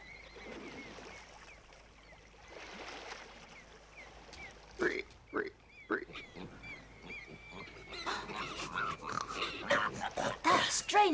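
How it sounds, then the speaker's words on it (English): Strange dog in a cartoon, a string of odd whining, yelping and growling cries alongside horse-like snorts, growing louder and busier toward the end, with talk heard in the scene. "That's a strange dog. I never saw a dog like that."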